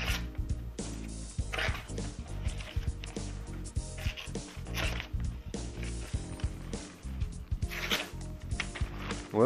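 A Microtech OTF knife slices through paper in a series of quick, close scratchy rasps and tearing swipes, with irregular bursts and some handling noise.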